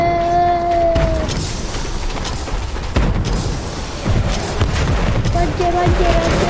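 Explosions from cars being blown up in Fortnite, a dense run of loud booms and gunfire-like blasts over steady game noise, with sharp hits around the middle and near the end.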